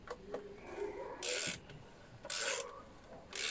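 Rocker cover bolts on a 2002 Vauxhall Zafira being tightened with a ratchet a couple of turns at a time during a rocker cover gasket replacement: three short, loud bursts of rapid clicking separated by quiet gaps and faint handling noises.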